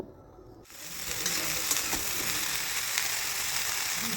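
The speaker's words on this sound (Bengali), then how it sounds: "এবার ফুলকপিগুলোকে খুব ভালো করে মিশিয়ে নেব।" Chopped cauliflower fries in a pan as it is stirred for a spicy snack. A dense hiss starts abruptly and continues steadily, and faint clicks and scrapes from the stirring show through it, with no talking.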